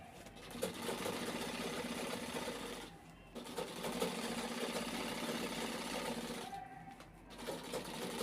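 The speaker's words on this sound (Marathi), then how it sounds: "इथे साडी कवर पूर्ण होत आलेला आहे शिवून" An electric sewing machine stitches a fabric saree cover with a steady, close mechanical whirring that pauses briefly twice before running on, and no one speaks.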